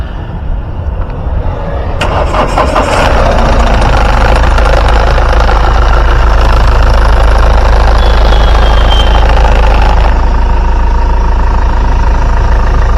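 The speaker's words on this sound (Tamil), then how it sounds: "வாங்க வண்டியோட இன்ஜின் சவுண்ட் எப்படி இருக்கு அப்படின்றத கேட்போம்" A loud Mahindra Scorpio SUV diesel engine idles steadily with a deep, rumbling chug, close up and continuous, with faint metallic clatter over it.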